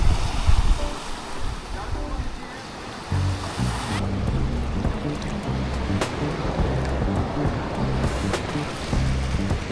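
Ocean waves wash onto a beach at Puerto Escondido, Mexico, a steady broadband surf roar mixed with gusty wind buffeting the microphone throughout.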